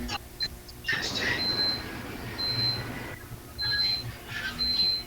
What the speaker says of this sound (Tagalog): yung cellphone, kasi nung cellphone yung nag-alarm